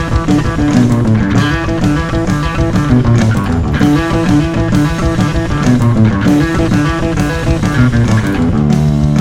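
Fast electric bass line played up to full speed as part of a shredding-style song, a dense, continuous run of rapid notes sustained loudly with no pauses and no talking.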